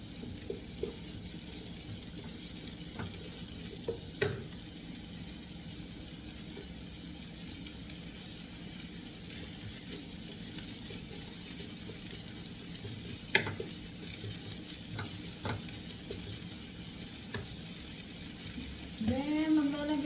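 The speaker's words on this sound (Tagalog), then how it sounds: "magigisa ako ng garlic" Garlic and ginger sauté in a pan for fish curry, making a faint, steady sizzle broken by occasional scraping stirs and clinks.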